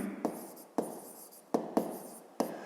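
Pen strokes on paper while a math exercise is written out by hand, several short distinct scratches and taps at uneven intervals, close and quiet, with no voice.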